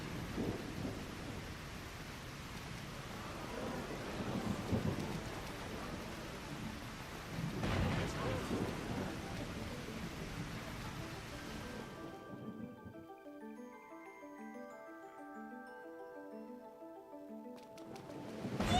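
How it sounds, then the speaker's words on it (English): Steady rain hisses in the video game Trails Beyond the Horizon, with low thunder rumbles swelling twice before the storm sound drops away into a soft melodic music cue. "Finally, some rain."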